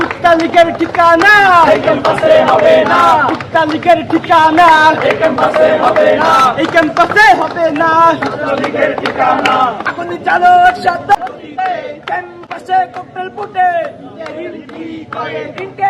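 Student protesters march in a procession on the Dhaka University campus, a loud crowd chanting slogans in rhythmic call-and-response with shouting voices throughout, growing sparser and more broken toward the end.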